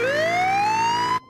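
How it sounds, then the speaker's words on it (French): A single loud ambulance siren rises in pitch in a SpongeBob cartoon, then cuts off abruptly. "Écoutez, une ambulance."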